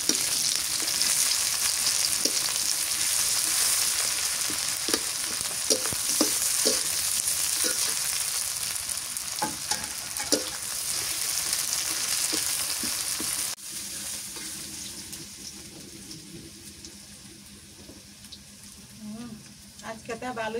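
Whole spices such as bay leaf, cloves, cinnamon and cumin sizzle in hot oil for Bengali cooking, a loud steady crackling hiss with scattered pops that drops to a softer simmer partway through, with a voice talking over it.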